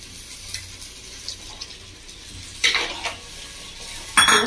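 A spoon stirs a spice paste of ground coconut, melon seeds and cashews in a frying pan for baingan masala. Soft low sizzling runs throughout, broken by a couple of loud scraping, clinking stirs near the end, with no talk.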